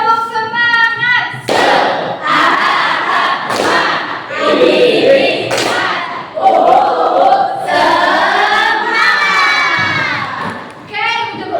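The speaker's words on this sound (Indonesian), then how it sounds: "kita ulang lagi tepuk semangatnya" A school class performs a rhythmic spirit clap, with bursts of sharp group clapping interleaved with children's loud chanted voices in a lively, close classroom.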